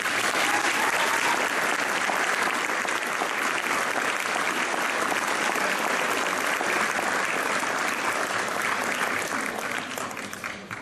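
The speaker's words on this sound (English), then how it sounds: "Give them a round of applause." Applause for honored students at a high school honors convocation, a loud sustained roar of many hands clapping in a large hall that tapers off slightly at the end.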